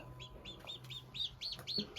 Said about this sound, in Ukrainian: Сьогодні ми почули дуже гарний спів такого маленького-маленького курчатка